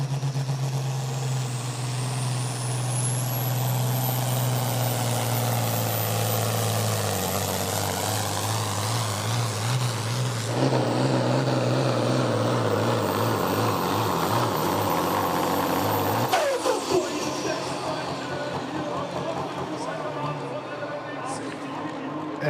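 Steyr pulling tractor with roughly 1,300 horsepower revving near 2,700 RPM at full power during a tractor pull in Knutwil, a loud sustained roar that climbs in pitch and shifts gears, with a commentator talking over it.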